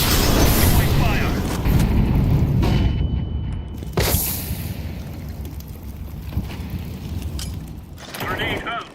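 Incendiary grenade thrown during a Counter-Strike match, a brief whoosh and burst amid loud, continuous in-game noise and rumble, with players talking over it.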